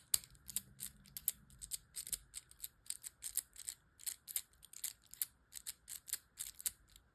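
A profile cylinder lock being tested after rekeying gives rapid, crisp mechanical clicks in an uneven rhythm, close and fairly quiet, with no voices.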